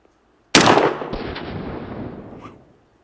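A single turkey shotgun blast fired outdoors at a pattern target 40 yards away, a sharp loud crack followed by a long rolling echo that fades over two seconds.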